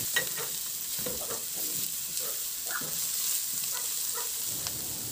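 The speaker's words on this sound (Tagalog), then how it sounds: "Igisa ko na rin yung bawang." Garlic sautéing in a hot pan without added oil for a pork chop dish, a steady close sizzle and hiss with occasional stirring clicks, no talking.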